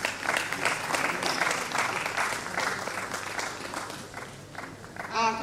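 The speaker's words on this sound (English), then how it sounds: "Another round of applause." Lively audience applause at a science and technology lecture, many hands clapping together in a full, sustained burst that thins slightly toward the end, with faint voices mixed in.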